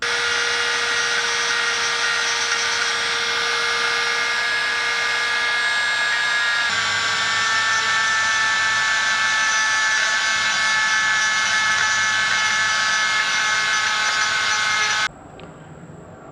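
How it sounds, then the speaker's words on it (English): A Dremel rotary tool whines steadily at high speed while sanding a small wooden knob into shape, loud and close, its pitch shifting slightly midway before cutting off abruptly near the end. "now I'm going to get the Dremel tool and focus on those really hard to reach"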